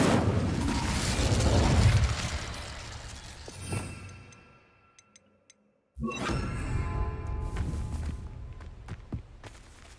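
An Incendio fire spell cast in Hogwarts Legacy erupts in a rumbling whoosh and burst that swells and fades, followed by a near silence and then a sharp return of crackling, clattering game sounds.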